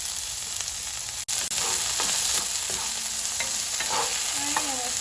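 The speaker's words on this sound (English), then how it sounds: "we're still stirring it around because we don't want our garlic to burn" Garlic and green onions sizzling as they fry in a pan while being stirred around, with a steady hiss and soft scraping strokes of a utensil, close up and without talk.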